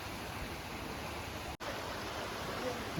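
Steady, full rushing of a forest stream pouring over stones in the Vagamon pine forest, loud and close throughout, broken only by a split-second dropout midway.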